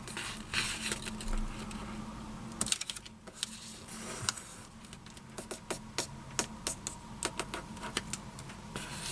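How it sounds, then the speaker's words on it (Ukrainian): Sheet of paper, 14 by 7 cm, folded in half for an origami house: crisp, irregular crinkles and sharp creasing taps scattered through the whole stretch, close and fairly quiet, with no talking. "Беремо листок, складаємо його вдвічі"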